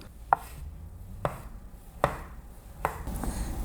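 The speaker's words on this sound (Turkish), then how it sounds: "İstersen avokado doğrayalım mı?" Four sharp knife chops cut avocado on a cutting board at an unhurried, slightly uneven pace, close and clear in a quiet room.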